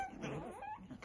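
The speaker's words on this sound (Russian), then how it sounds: "Мы даже что-то пытаемся лаять." Small puppy attempts to bark, producing brief high whimpering yips and squeaky cries close by, in a quick uneven burst with no talk.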